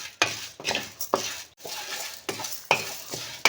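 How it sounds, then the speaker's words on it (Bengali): Rice and lentils are dry-roasted in a wok, with a spatula scraping and tossing the grains in repeated rattling strokes, loud and close, separated by brief pauses. No one speaks. "এবারে আমি চাল আর ডালটা ভেজে নেব"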